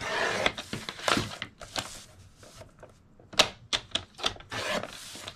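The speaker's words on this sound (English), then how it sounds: "And we're going to trim our border." A paper trimmer slices a paper border, giving a series of sharp, close scraping cuts and clicks in irregular bursts, with handling noise around them.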